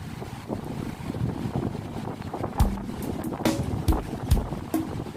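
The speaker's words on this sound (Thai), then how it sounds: "เพื่อนๆ ได้ยินเสียงลม กันไหมเนาะ" Strong wind at the seaside in Songkhla, Thailand, buffets the microphone in a steady roar with occasional harder gusts and thumps, outdoors and with no voices heard.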